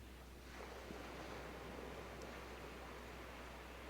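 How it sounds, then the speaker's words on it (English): Ocean waves lap gently on a beach at Calala Island, giving a steady, soft surf wash that swells slightly after the first half second and holds on without talk. "maybe the sounds of the waves behind me,"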